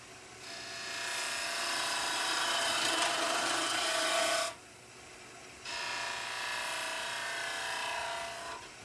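A Crown Cryo turning tool cuts wood on a spinning lathe with its bevel rubbing, giving a loud, close, steady scraping hiss that stops briefly and then resumes for a second pass.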